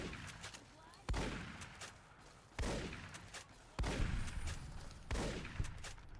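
Shotgun blasts boom in Fallout New Vegas, four loud, evenly spaced shots about a second and a half apart, each followed by a decaying rumble, with a voice talking quietly between them.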